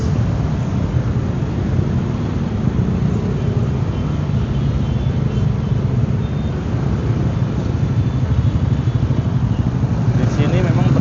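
Steady, loud traffic rumble at a busy red-light intersection, engines and motorcycles blending into a continuous low roar throughout, with a voice talking over it.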